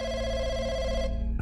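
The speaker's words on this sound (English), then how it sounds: "a phone in the public phone market starts ringing" Public telephone ringing in the Chinese folk horror video game Firework: a steady, loud electronic bell trill that sounds alone and then cuts off abruptly near the end.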